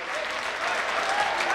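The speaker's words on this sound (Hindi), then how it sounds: "जोरदार तालियों से एक बार स्वागत करेंगे" A crowd at a public bus stand inauguration in Shajapur gives the chief minister a loud, sustained round of clapping, a dense steady wash of applause with faint voices mixed underneath.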